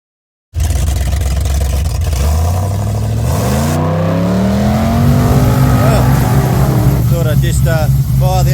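An old car engine, a project car with a Painless wiring harness install that had sat unstarted for a while, cranks, fires and revs loudly close by, its pitch rising and falling through several throttle blips before settling into a steady idle.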